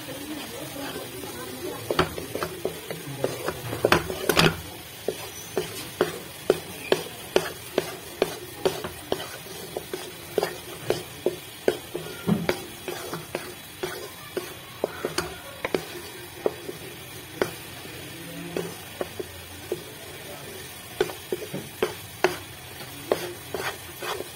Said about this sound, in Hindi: इसका ऑयल जो है वो बाहर आ जाए, थोड़ी देर और फ्राई करेंगे